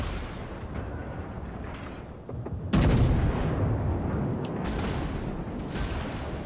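Naval gunfire in the World of Warships game: a sudden heavy boom near the middle breaks into a long, loud rolling rumble, with fainter thuds and distant shots before it.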